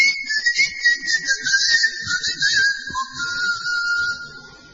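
A person whistles in imitation of a whistled island language, clear sliding melodic whistles with rising and falling pitch over about four seconds, close and bright.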